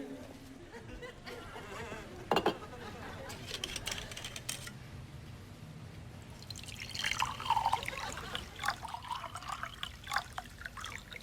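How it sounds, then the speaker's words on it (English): Scotch is poured into two glasses in a hospital drama scene, giving a quiet trickle with scattered drips over a low background. "I predict Dr. Charlotte Beaumont will pour 2 glasses of scotch for her and Dr. Frank"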